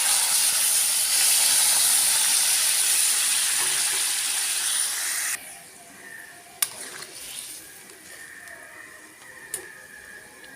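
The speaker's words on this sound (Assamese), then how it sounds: "গৰম পানী দিছোঁ মই" Hot water poured into a cooking pot while making paneer sends up a loud, steady hiss of steam for about five seconds, then drops to a quieter simmer with a few sharp clicks.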